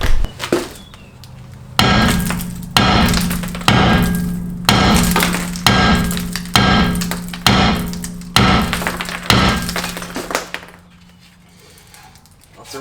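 A sledgehammer pounds a rusted, stuck brake rotor on a Ford Fusion: about eight heavy metallic blows at a steady, roughly one-second pace, each ringing briefly before the next strike.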